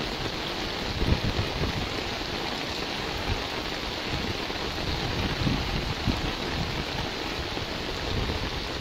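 Heavy monsoon rain pours down in Dhangadhi, Nepal, amid flooding, a steady dense hiss of water with occasional nearby splashes and drips.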